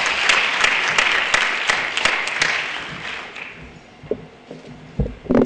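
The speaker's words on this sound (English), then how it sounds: "Let's give him a round of applause." Conference audience applauding at a plenary session on stigma in HIV policy, a steady round of clapping for about three seconds that thins out, then footsteps and small movement sounds.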